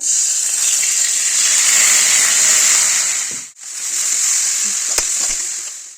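Spices and masala fry in hot oil with a loud, steady hissing sizzle that briefly dips and resumes, with a few faint clinks of a utensil.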